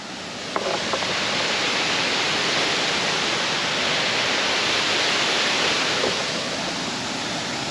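Broad, steady roar of rushing water from a waterfall in a Tennessee park, loud and continuous, with no voices over it.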